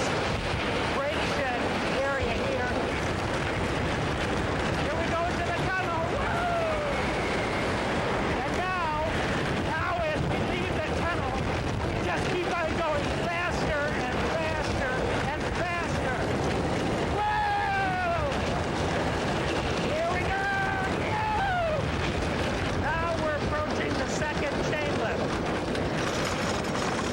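A fast roller coaster ride roars along for the whole stretch, with rushing wind and rumbling track noise throughout, and riders' voices and whoops rising over it at intervals.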